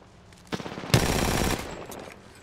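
Gunfire in Apex Legends: a short burst around the half-second mark swells into about half a second of dense, loud automatic fire, then trails off into quieter echoing shots.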